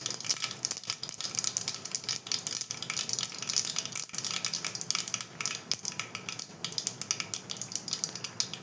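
Mustard seeds sputtering in hot oil for tomato rasam, a constant crackling sizzle with dense, irregular pops throughout, close and fairly loud, with no talking.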